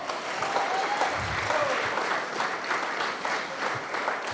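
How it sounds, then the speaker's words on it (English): An audience gives a sustained round of applause to high school students at a university keynote event, a steady, evenly textured clapping heard at a moderate distance with no talk over it. "Can we give a big round of applause to our high school students?"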